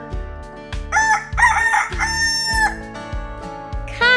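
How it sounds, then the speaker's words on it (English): A rooster crows a loud, clear cock-a-doodle-doo over a repeating rhythmic musical backing, with a second brief call starting at the end. "What sound does a rooster make?"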